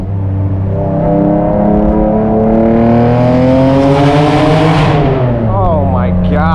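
Straight-piped BMW Z3M with an M3 engine revving hard: a loud, raspy, deep howl climbing steadily in pitch for several seconds, then the engine note falls sharply as the throttle lifts, heard close from inside the car.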